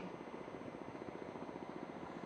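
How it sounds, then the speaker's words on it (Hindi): A Kamov Ka-31 naval helicopter flying past at a navy display, a steady rapid rotor thump and engine drone heard from a distance, with no talk. "बाईं तरफ से मंच के सामने आ रहा है अगला हेलीकॉप्टर कामोव 31, जिसे आई ऑफ द फ्लीट भी कहा जाता है"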